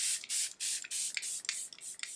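An Hourglass makeup setting spray is pumped in a quick series of about eight short, hissing mist bursts, close and crisp, each spurt separated by brief pauses.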